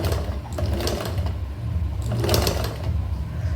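A sewing machine stitches a wave pattern, its needle running in a fast, continuous mechanical rattle with slight surges as the speed shifts; close and steady, with no talking.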